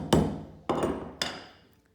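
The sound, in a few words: hammering a flat shoemaker's tack into leather on a last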